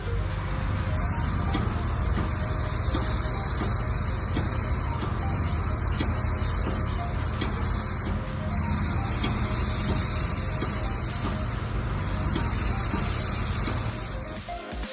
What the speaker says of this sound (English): a special machine that feeds the paint to the nozzle under high pressure, spraying it in a wide, even stream